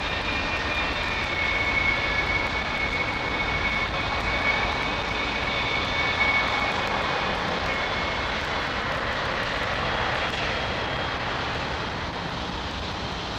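An airliner taxies at London Heathrow with a loud, continuous aircraft-engine drone and a thin steady whine over a rumbling low end, holding an even level throughout with no voices.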